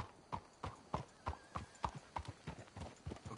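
Video-game horses walk with an even, rhythmic clip-clop of hooves, about three hoofbeats per second, soft and steady.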